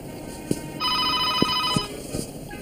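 A telephone rings with a single bright electronic trill lasting about a second, loud and close, with a few soft knocks and small movement sounds around it.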